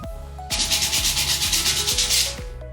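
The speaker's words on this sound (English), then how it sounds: "That was the bulk of that part that needed to be sanded." A homemade wooden dance pad being sanded by hand, a rhythmic series of rasping back-and-forth strokes, close and even-paced, about eight passes before it stops.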